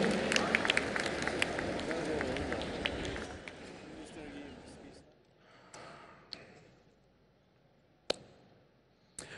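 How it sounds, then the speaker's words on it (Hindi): Audience applause for actor Kartik Aaryan at the opening ceremony of the 53rd International Film Festival of India in Goa, a dense roomful of clapping under a speaker's voice that thins out midway, leaving scattered sharp claps. "जोरदार तालियां हो जाए कार्तिक आर्यन के लिए"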